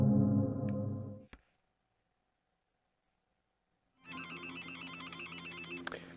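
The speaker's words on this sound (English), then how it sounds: "Phone's going off." A phone in the VR video game Accounting+ rings with a busy electronic trill starting after a near-silent stretch, preceded by a low rumbling passage, a click and a sharp tick.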